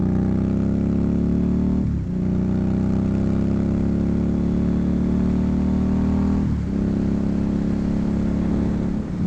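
A motorcycle rides along a country road, its engine droning loud and steady up close with two brief dips as it shifts or eases off the throttle.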